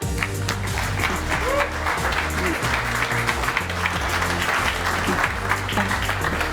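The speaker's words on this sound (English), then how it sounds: "let's welcome our second candidate here today with a big round of applause" An audience at a London event breaks into a big, sustained round of applause welcoming a contestant to the stage, dense and even from start to finish, with a voice briefly heard beneath.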